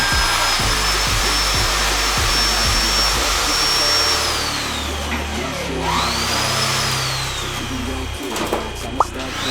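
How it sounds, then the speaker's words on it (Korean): A shear wrench tightens TS bolts on an H-beam reinforcement in a building whose load-bearing wall was removed, giving a loud, continuous high-pitched whine with pulsing low chatter, then the pitch drops and rises again. "TS 볼트를 샤렌치로 조여줘 튼튼하게 고정 작업을 진행해 줍니다"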